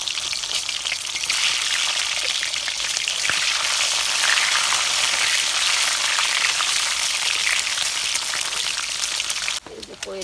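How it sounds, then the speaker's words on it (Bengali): Quail eggs fry in a pan during pouring rain, a loud, steady crackling sizzle that runs continuously close by before cutting off abruptly near the end, with a brief voice at the end. "এই যে কোয়েল পাখির ডিম ভাজা শেষ"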